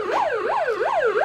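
A toy police siren wails in a fast, repeating up-and-down pattern, bright and close, looping about four times with no talking.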